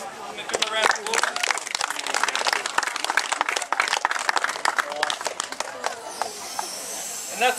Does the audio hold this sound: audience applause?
yes